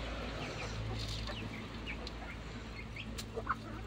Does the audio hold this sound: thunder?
no